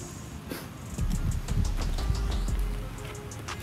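Steady rain falling outdoors, a dense patter of drops that swells after the first second and continues throughout with no voices.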